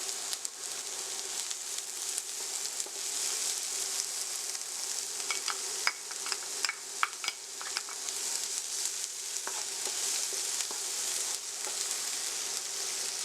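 Sweet peppers and garlic sauté in a hot pan for saltfish, a steady close sizzle with scattered crackles and light stirring clicks throughout, no voices.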